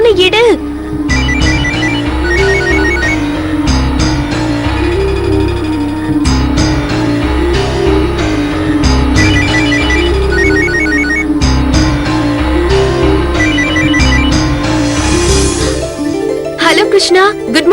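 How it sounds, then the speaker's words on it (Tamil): A melodic phone ringtone plays continuously and loudly, a repeating tune with a steady pulsing rhythm, cycling several times before cutting off near the end. "ப்ளீஸ் ப்ளீஸ் ப்ளீஸ் போனை எடு"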